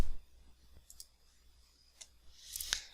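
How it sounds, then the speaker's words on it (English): A mouse click in 3ds Max launching a Redshift final render, a few faint soft clicks and one sharper, brighter click near the end, isolated with no talk. "click final render"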